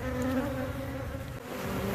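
Dense, steady buzzing of a honeybee swarm fills the air during removal of a colony and comb from a tree in Tampa, Florida, a close, continuous drone with no pauses and no talk.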